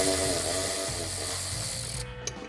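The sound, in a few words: ratchet removing bolt from Mustang disc brake bracket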